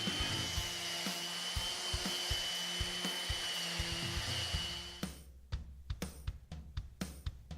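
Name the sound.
sanding a pine desk top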